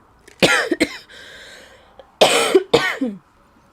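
Two rough, loud coughing bursts close to the microphone, each a quick double hack, separated by a brief quiet pause.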